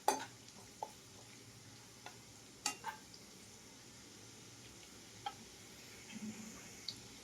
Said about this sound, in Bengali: দেখুন এইভাবে ভেজে নিতে হবে, একটু ভালো করে ভাজতে হবে, নালে রসুনের গন্ধটা থাকবে না।